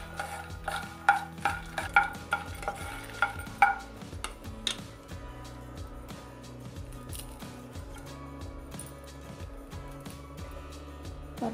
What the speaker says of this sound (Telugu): ఇలా డ్రై రోస్ట్ చేసుకోవాలి 5 నిమిషాలు.